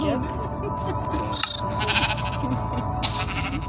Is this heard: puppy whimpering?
no